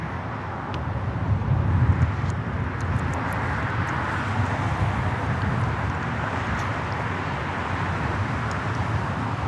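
A heavy airliner on approach to Los Angeles International Airport, a steady broad low roar with a slight swell early on, heard at some distance amid continuous background rumble.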